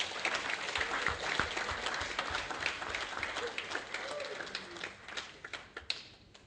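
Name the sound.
audience applause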